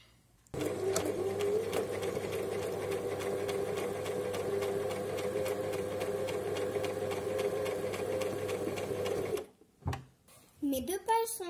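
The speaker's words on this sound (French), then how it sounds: "Et je vais coudre à la machine." A sewing machine quilts a grid across a fabric cover, running loud and fast with a steady rapid stitching chatter for about nine seconds, then stopping before a brief bit of speech.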